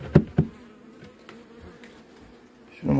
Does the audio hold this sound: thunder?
no